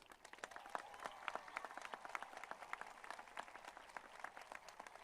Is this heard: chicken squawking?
no